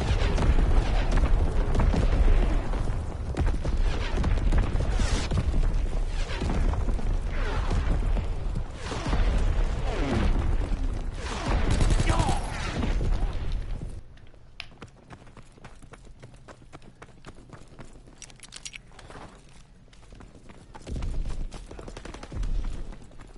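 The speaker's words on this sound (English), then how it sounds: "Incoming enemy artillery." Enemy artillery pounds in a video game war scene, heavy booms and crackling gunfire rolling densely for the first half, then thinning into scattered distant thuds and pops.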